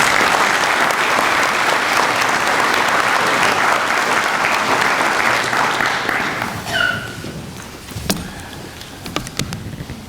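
Sustained applause from an audience at a spring master's hooding ceremony as a speaker comes to the podium, a dense, loud wash of clapping for about six seconds that thins into scattered claps and fades.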